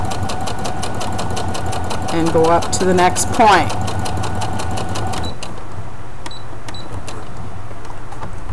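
A sewing machine stitches a Dresden quilt candle mat with a close, steady rhythmic whir under a voice, then stops, leaving quieter clicks and room noise.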